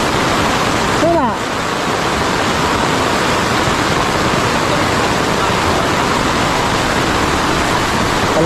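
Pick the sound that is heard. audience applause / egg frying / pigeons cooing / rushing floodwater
rushing floodwater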